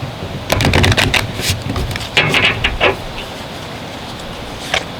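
Quick bursts of riffling and flapping tarot cards close by, a couple of shuffles in a row, then a brief final flick.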